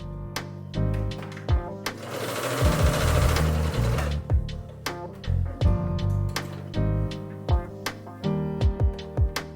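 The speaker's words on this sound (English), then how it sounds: "sew a stay stitch to both the cut edges of the collar" A sewing machine runs a stay stitch along the cut edges of a shirt dress collar, a close mechanical whir in short bursts. Rapid needle knocks come between the bursts, with one longer continuous run in the middle.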